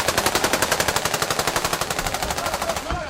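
Loud automatic rebel gunfire in a sustained, evenly spaced rapid burst of about thirty shots, ending abruptly.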